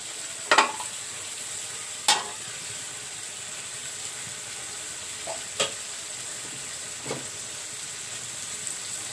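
Snakehead fish fries in a pan under a low steady sizzle, with a few sharp scraping stirs of a spatula at irregular intervals, close and otherwise quiet.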